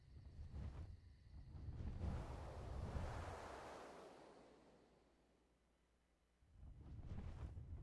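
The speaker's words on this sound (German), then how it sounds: "Hier drüben ist ein Wasserfall." Steady rushing water from a waterfall in the video game ARK, a broad continuous roar that swells and fades over several seconds, no talking.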